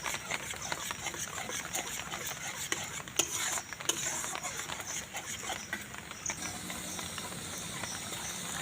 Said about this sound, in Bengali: কড়ার মধ্যে আমের পালটা দিয়ে দিলাম দিয়ে ভালো করে একটু ফুটিয়ে নেবো